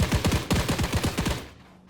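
A rifle from a Hytale gun mod fires a quick, steady burst of about a dozen shots, loud and evenly spaced, before cutting off into a short fading tail.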